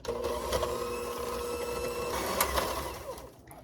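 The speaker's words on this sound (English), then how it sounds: "In this large bowl, I'm going to add my softened butter, sugar, using an electric hand mixer. Start mixing." An electric hand mixer beats softened butter and sugar in a large bowl, a steady close whir with a little rattle in it that runs without a break and then winds down at the end.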